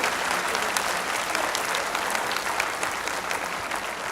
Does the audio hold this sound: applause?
yes